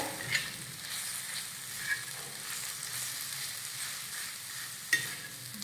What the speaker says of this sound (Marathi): एक चमचा कांदा लसूण मसाला आणि एक चमचा लाल तिखट आता हे मिक्स करून घेऊया